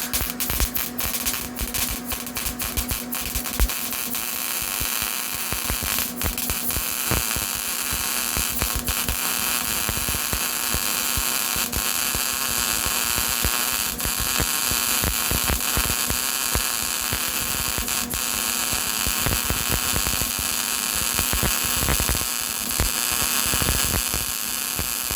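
Short-circuit MIG welding with a Lincoln Idealarc SP-100 running .030 wire and 75/25 argon-CO2 shielding gas: a steady, close crackling buzz with a hum underneath, continuous for the whole stretch with no talking.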